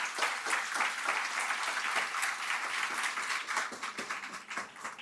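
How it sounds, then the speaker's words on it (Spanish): A university auditorium audience gives a sustained round of applause, dense and even clapping filling the hall from start to finish, loud and continuous with no talk over it. "pido a ustedes un fraterno aplauso para"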